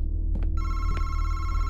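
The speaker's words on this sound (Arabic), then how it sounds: "حلو التليفون يدق" A telephone rings in the horror video game MADiSON, a loud, bright electronic ring that starts after a brief pause and sounds steadily over a low, pulsing background drone.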